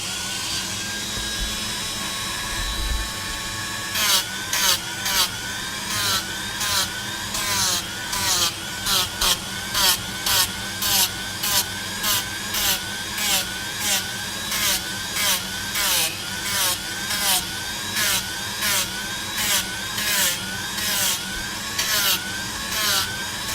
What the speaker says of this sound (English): So back to the Dremel noises.